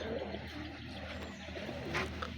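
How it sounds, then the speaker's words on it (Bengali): Pigeons coo softly inside a pigeon loft, low murmuring calls overlapping against a faint, quiet room background. "সবগুলো কবুতর ডাকা দিয়ে আছে আর সুন্দরভাবে মিট আপ করতেছে"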